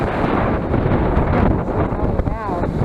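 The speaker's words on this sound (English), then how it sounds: "Anyway, it got super windy." Strong wind at an RV park in Thermopolis, Wyoming roars and buffets a microphone continuously, a dense rumbling rush with a faint voice briefly audible near the end.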